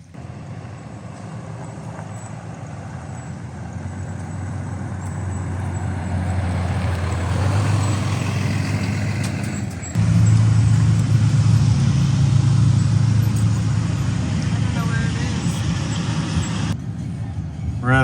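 Vehicles idle and move around a Love's gas station and truck stop, heavy engines rumbling low, with a truck's deep idle growing louder and close by partway through and a brief hiss near the end; no talk.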